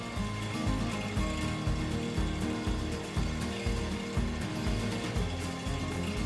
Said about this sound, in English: Drilling to place micropiles continues further down the pile line.